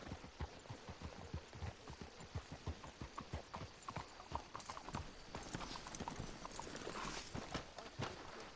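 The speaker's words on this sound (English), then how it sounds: "Let's hitch the horses up ahead." Steady clip-clop of several horses' hooves trotting close by in the video game Red Dead Redemption 2, a continuous rhythmic patter with a brief whinny-like burst partway through.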